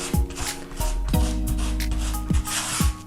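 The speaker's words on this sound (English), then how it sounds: "I'm forcing the grout, as you can see, into the joint as you would normally." Grout pressed and scraped into joints on a stone sample board half sealed with an impregnating sealer, giving close, dry rubbing and rasping strokes in a repeated rhythm.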